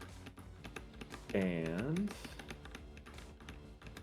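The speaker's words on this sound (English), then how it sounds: "I can hear someone doing something on the keyboard" Computer keyboard typing during an online tabletop game session, steady rapid key clicks throughout, close, under a brief spoken word and a short sung or drawn-out voice in the middle.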